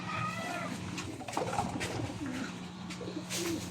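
Pigeons in a loft housing stock birds and breeders coo repeatedly, soft warbling calls rising and falling over a low background hum, with no talking.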